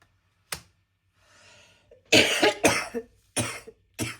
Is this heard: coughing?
yes